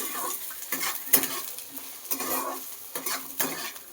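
Eggplant and onion fry in a pan with a steady sizzle, broken by repeated bursts of stirring and scraping against the pan at a brisk, irregular rhythm, close by with no talk.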